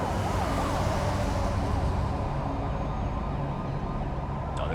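Ambulance and fire truck sirens wail as they arrive at the scene of a fatal semi truck collision on Highway 401, rising and falling steadily and loudly over rumbling traffic and engine noise throughout.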